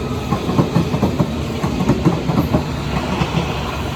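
A Hammersmith & City line train pulls out of Barking station, a close rhythmic clatter of wheels over rail joints with a low engine hum underneath, no voices present.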